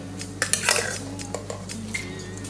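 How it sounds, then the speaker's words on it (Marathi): Homemade yogurt is whisked in a bowl for kadhi: quick, irregular clinks and scrapes of metal on the bowl, close and clear over a low steady hum. "मी दही जे आहे ते फेटून घेणार आहे"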